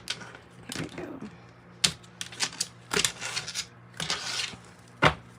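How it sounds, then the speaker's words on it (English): Irregular sharp clicks and snaps of tarot cards being handled and shuffled nearby, in uneven bursts with brief pauses between. "let's give it a little shuffle like this"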